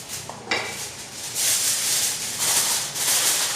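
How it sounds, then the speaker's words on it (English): Aluminium foil is crinkled and pressed over a baking tray of apricot butter chicken with onion, giving close, papery rustling bursts that come in waves with short pauses, and no talking. "all we need to do now is pop some foil on this tray"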